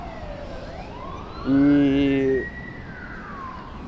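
Fire truck and ambulance sirens pass nearby on a street, wailing up and down in long sweeps, with a loud, steady horn blast cutting in for about a second midway.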